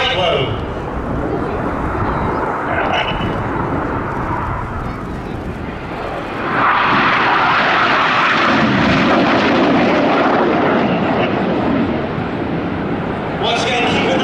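Red Arrows jets roar through a 6G hard-turn crossing manoeuvre at an air festival display, a loud continuous engine rush that swells midway as the aircraft pass, with a commentator speaking over it.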